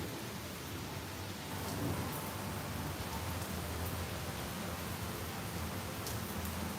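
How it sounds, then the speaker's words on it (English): Heavy afternoon thunderstorm rain in Tampa, Florida, a dense steady hiss of downpour throughout with a low rumbling undertone and no voices. "so the rain isn't too bad"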